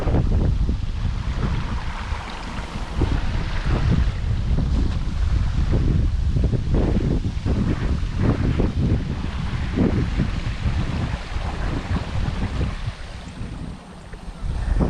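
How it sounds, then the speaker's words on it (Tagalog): Strong wind at a rice field buffeting the microphone, a loud continuous roar with gusty low rumbles throughout. "Sarap ng hangin."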